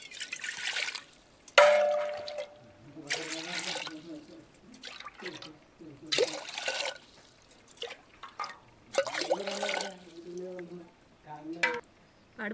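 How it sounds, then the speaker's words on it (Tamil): Four tumblers of water are poured into a pot for ginger tea, giving splashy bursts of trickling liquid that come and go between stretches of a person talking. "இப்போ 4 டம்ளர் இதில் வந்து தண்ணி போட போகிறேன்"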